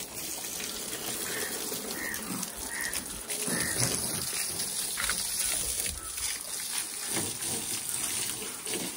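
Water from a solar-pumped tap gushes steadily outdoors while a tractor is washed, a continuous broad splashing rush that swells slightly midway and keeps going throughout.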